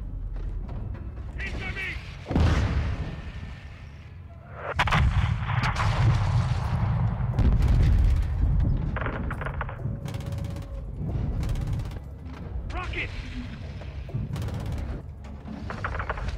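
In the video game Modern Warfare 2, artillery fire lands as heavy, rumbling booms and blasts that roll through the scene while voices talk over the barrage.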